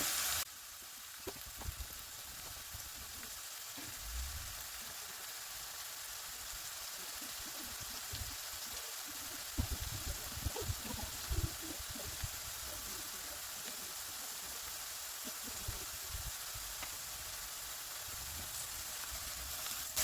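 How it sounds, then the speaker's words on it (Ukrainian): Onion and garlic frying in a little oil, a steady soft sizzle running throughout, with faint clinks and stirring sounds. "На невеликій кількості олії обсмажую цибулю та часник."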